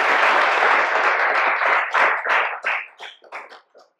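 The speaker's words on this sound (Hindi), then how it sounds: "उसके लिए भी तालियां।" An acting workshop audience applauds loudly and steadily, then the clapping thins into scattered claps and fades out.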